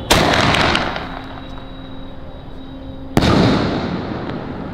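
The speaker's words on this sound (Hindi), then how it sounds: "ये है कोरोनेट, ये ऊपर जाके पूरा लाल रंग से होगा" A Cock Brand Coronet firework shot launches with a sharp whoosh and loud crackling burst, fades into hiss, then a second sharp crack bursts close by and slowly decays.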